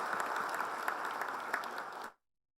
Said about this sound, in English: So big round of applause to our branches also.